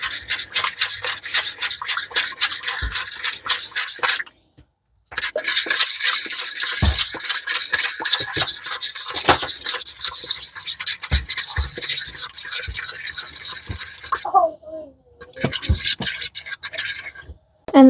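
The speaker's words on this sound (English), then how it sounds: "Okay, then I'm just gonna mix it together." Sourdough pizza dough is mixed by hand in quick, scratchy rubbing strokes that come in irregular bursts with a couple of short pauses, close and fairly loud.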